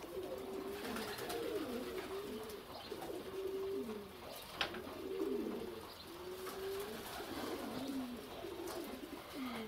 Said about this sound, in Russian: Много воркует, бегает, значит, много самцов голубей, а голубок меньше.